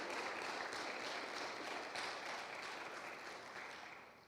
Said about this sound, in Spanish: Denle un fuerte aplauso al Señor entonces